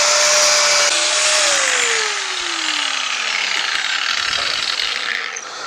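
Grinder cutting wire for a rabbit hutch: a loud, steady whining buzz with a pitch that dips as the blade bites in, running nearly the whole time without pause.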